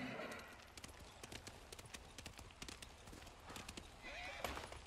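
Horse hooves clop at a steady gallop in Ghost of Tsushima, with a whinny heard along the way, under a person's voice and faint game ambience.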